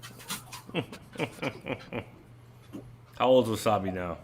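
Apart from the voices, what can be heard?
dog panting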